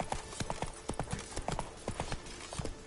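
Roach, the horse in the video game Witcher III, gallops with steady, rhythmic hoofbeats that clop throughout at a close, even level, with no voice over them.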